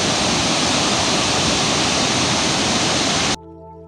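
The Unchalli waterfall in forest sets up a loud, steady roar of falling water, dense and unbroken, that cuts off abruptly near the end.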